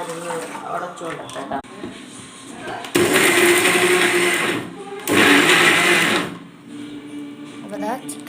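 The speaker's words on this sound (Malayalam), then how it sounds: "ഇതുപോലെ ചിക്കൻ മിക്സിയുടെ ജാറിലിട്ടിട്ട് നോക്കിയ ചിക്കൻ മാത്രമല്ല കേട്ടോ, ബാക്കി സാധനങ്ങളും" A mixer grinder grinds chicken in its jar in two loud, close whirring bursts of a few seconds each, separated by a short pause, with people talking before, between and after.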